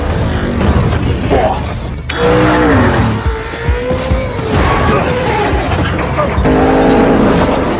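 In a movie chase scene, a car engine roars loudly as a NOS boost kicks in, with tire squeals and mechanical clatter surging in waves around a brief lull.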